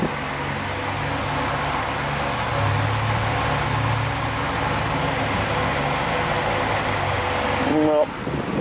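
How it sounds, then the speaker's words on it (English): Steady whooshing drone of a fan running in a garage during a Holden Commodore show car rebuild, constant broadband noise that stays close and unchanging, with a brief rattle near the end. "excuse the noise for the fan."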